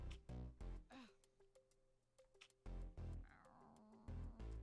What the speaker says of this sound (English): That's a big cat.